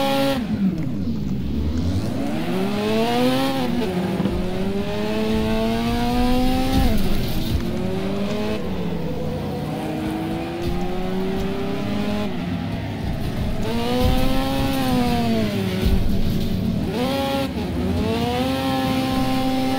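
Racing cars in the demolition derby game Wreckfest, engines revving and roaring continuously up and down with squealing tires, loud and close, with no talking.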